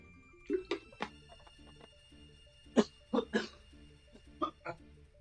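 Several short coughs come in separate bursts over a quiet background, one person clearing the throat and coughing at close range with pauses between.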